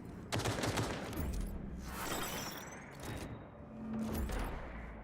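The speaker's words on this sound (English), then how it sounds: "Is this a burst sniper?" A burst sniper rifle in Cyberpunk 2077 fires repeated bursts of sharp shots with mechanical clatter. The shots are moderately loud and spread across several seconds.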